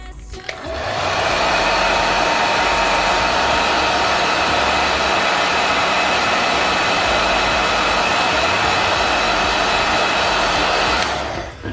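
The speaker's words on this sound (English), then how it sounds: "Hair dryer." A hair dryer switches on and blows with a steady, loud whooshing whine for about ten seconds, then cuts off.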